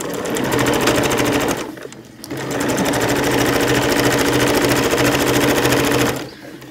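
A sewing machine runs fast and loud while stitching a furry fabric purse, with rapid even needle clatter in two bursts separated by a short pause, then stopping.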